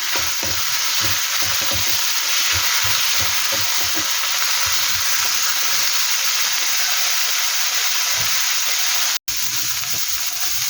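Chili peppers fry in a hot pan in a home kitchen, giving a steady loud sizzle and hiss throughout, with soft clatters from stirring near the start and a brief dropout near the end.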